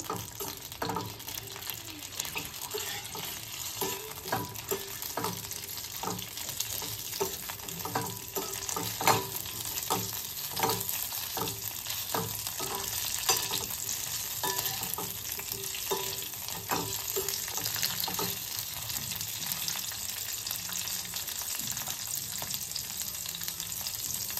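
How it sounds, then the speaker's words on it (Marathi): Tomato pieces and green chillies sauté in hot oil for a green tomato chutney, giving a steady, close sizzle with soft stirring scrapes throughout, no voices. "मग आपल्याला टोमॅटोच्या फोडी घालायच्या। हे पण व्यवस्थित परतून घ्यायचं।"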